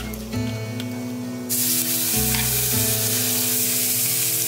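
A steak searing in a heavily salted cast iron pan: loud, steady, close hissing sizzle that jumps louder partway through and holds there, with no one speaking.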